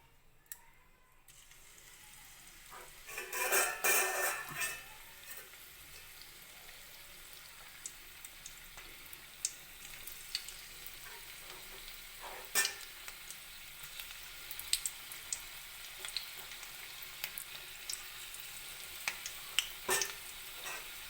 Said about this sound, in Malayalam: നമുക്കിനി അതിലേക്ക് ചെറിയ ചെറിയ ബോൾസാക്കി ഇട്ട് കൊടുത്തിട്ട് അത് വറുത്തെടുക്കാം.